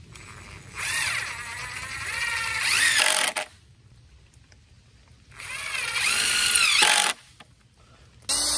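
A power drill whines loudly as its bit bores into very hard wood during cabin floor building, in two sustained bursts of about three seconds each, with the pitch rising and falling under load and quiet pauses between.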